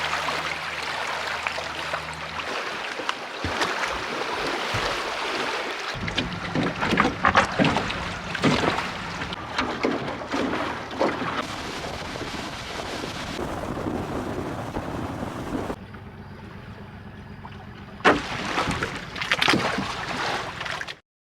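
A small boat moves across a lake, with a steady engine or water rush, wind buffeting the microphone and splashing against the hull, broken by abrupt shifts and a brief quieter stretch near the end, with no talking.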